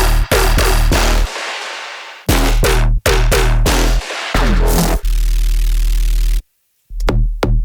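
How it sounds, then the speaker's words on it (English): A punchy synth bass plays a choppy, rhythmic line on its own, with short stabs, sustained low notes and abrupt silent gaps. "The bass line, if we mute the drums, sounds like this."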